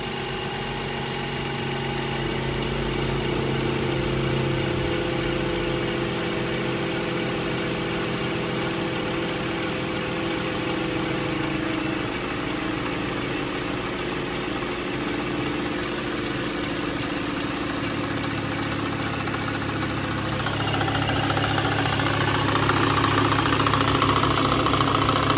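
A car engine runs steadily at idle just after starting, a close, loud mechanical hum with some knocking texture and a noisy timing chain, rising slightly toward the end.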